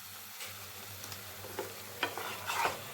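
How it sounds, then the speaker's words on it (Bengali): Spice paste of cumin, coriander and turmeric powder with salt fries in a pan, giving a soft low sizzle broken by a few scraping stirs that grow louder near the end. "এবার আমি মশলাটাকে খুব ভালো মতন কষিয়ে নেব।"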